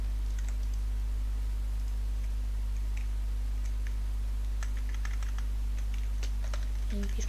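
Scattered keystrokes on a computer keyboard as a chat message is typed in Minecraft, faint irregular clicks over a loud, constant low electrical hum.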